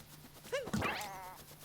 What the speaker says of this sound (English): time to look for that last darn sheep